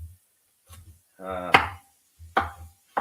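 Garden vegetables being chopped on a board for homemade hot sauce: a few separate knife strikes, each a sharp thud, with one longer scraping or rustling stretch partway through, close and fairly clear with no talk.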